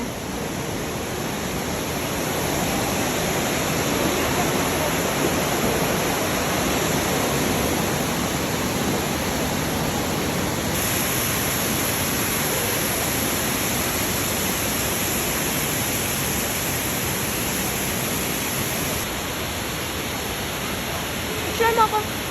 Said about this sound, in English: it through the waterfall.